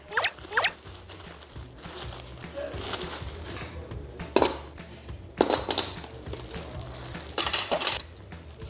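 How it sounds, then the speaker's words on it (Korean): Dishes being washed in a group kitchen setting: intermittent clinks and rattles of dishes and cutlery, with scattered loud clatters over a busy background of voices and movement. "이거 진짜 설거지"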